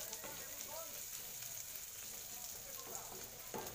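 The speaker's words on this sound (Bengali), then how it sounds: "একদম লো স্টিমে ভাজবো।" Onions frying slowly in oil on low heat, a soft steady sizzle with a few light pops and scraping clicks, faint and without speech.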